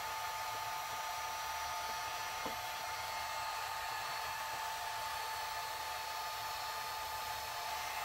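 Hair dryer on low heat blowing over alcohol inks on tiles, a steady, fairly quiet whirring hum with a constant whine, unbroken for the whole stretch.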